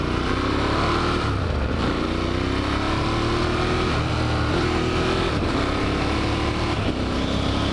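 A Ducati Monster 1200 accelerates hard while being ridden, its engine loud and close, revving up repeatedly in rising pulls with quick shifter gear changes in between, over constant wind rush.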